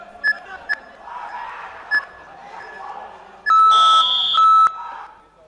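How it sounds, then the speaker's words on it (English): Electronic match timer at a youth MMA championship gives short sharp beeps, a few single chirps early, then a louder sustained double tone, sounding over an excited commentator voice and crowd noise in an arena. "Now here in full guard, we hear the timer in the background."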